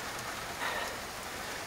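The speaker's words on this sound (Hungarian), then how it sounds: "Szakad az eső. Nem kicsit." Heavy pouring rain in the countryside, a steady dense hiss of downpour drumming on surfaces, close and continuous with no voices.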